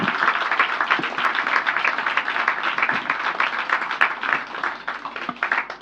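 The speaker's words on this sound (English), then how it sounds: "I think that deserves an even more rousing round of applause." A crowd at a Zenith Bank rights issue and public offer event breaks into rousing applause, loud, dense clapping sustained evenly throughout with no voices over it.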